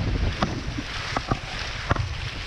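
Cold wind buffets the microphone on an island while out kayaking, a steady broadband rush with a few soft knocks and splashes of a paddle or hull, close and moderately loud with no voices.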